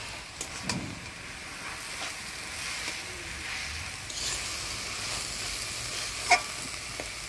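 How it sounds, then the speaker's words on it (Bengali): Water spinach (kalmi shak) with garlic, salt and green chili fries quietly in a pan, a soft steady sizzle broken by occasional scraping stirs, with no talking. "কলমি শাকটা ভালো করে নাড়াচাড়া করে নিলাম"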